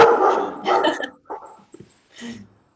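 A single dog barks a few times nearby in short, separated bursts, with quiet gaps between them.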